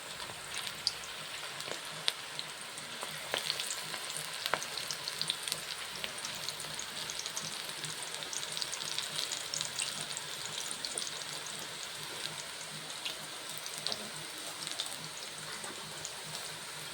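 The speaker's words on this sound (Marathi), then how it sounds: "तर बघू शकता आपण आता याच्यामध्ये भजे सोडत आहोत।" Onion pakoda bhaji fry in hot oil on a high gas flame, giving a steady, dense sizzle with scattered bubbling pops that runs unbroken and fairly close throughout, with no talk.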